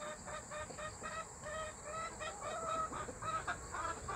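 Chickens cluck softly and repeatedly inside a 3.6 m by 3.6 m backyard coop, a busy overlapping chatter of hens heard fairly faintly with no talking.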